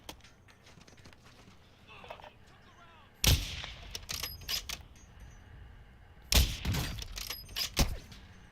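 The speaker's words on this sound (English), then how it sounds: "I'm taking effective fire" Gunfire in Call of Duty: Warzone, two loud bursts of shots with sharp cracks and thuds, separated by quieter stretches of softer distant shots and faint voices.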